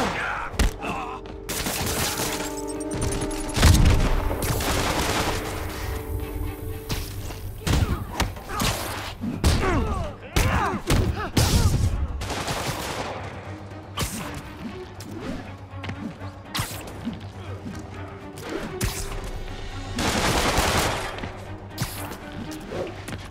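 Enemies fire guns during a street fight in Marvel's Spider-Man video game: bursts of gunfire mixed with heavy thuds, whooshes and crashes, irregular and loud, with brief character voices in between.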